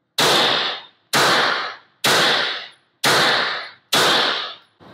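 Five evenly spaced suppressed 9mm pistol shots of Hornady Subsonic ammunition through a Rugged Obsidian 9 suppressor, each a loud, sharp muffled crack that decays quickly, with no voices.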